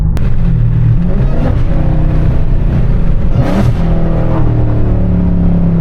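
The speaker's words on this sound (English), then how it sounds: "These downshifts will not get old." A widebody Dodge Challenger Hellcat's engine rumbles loud and close, dropping through downshifts with surging revs and a sharp blip midway, steady and continuous with no talking.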